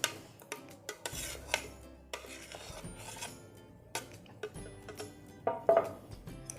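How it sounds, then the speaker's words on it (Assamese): Chopped fruit salad of apple, raisins, cashews and cherries being stirred in a bowl, giving close, irregular scraping and clinking of a spoon against the dish with soft rubbing in between. "এইখিনি প্ৰথমতে ভালকৈ মিক্স কৰি লওঁ।"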